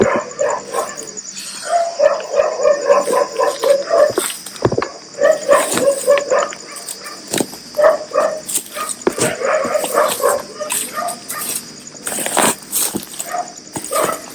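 Several dogs barking repeatedly, some near and some farther off, in a ragged continuous chorus with yips and whimpers mixed in, fairly loud throughout.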